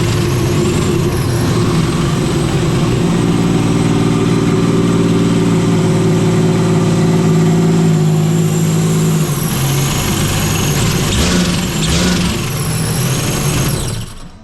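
A turbocharged Sea-Doo with a 325 engine and newly flashed MG1 ECU runs at idle, a loud steady low drone with a constant mechanical hum that drops in pitch partway through and then carries on evenly.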